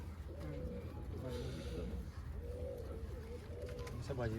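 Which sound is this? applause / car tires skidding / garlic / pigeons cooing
pigeons cooing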